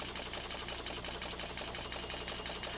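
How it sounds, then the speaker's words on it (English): An Accraply 90 series label applicator on a 9000VF labeling system applies labels to containers, a faint, rapid, evenly pulsing mechanical clatter that runs without a break. "When a sensor detects the container is in position, the Accraply 90 series label applicator applies a label."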